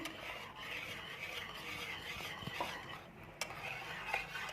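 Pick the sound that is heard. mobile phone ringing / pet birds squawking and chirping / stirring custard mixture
stirring custard mixture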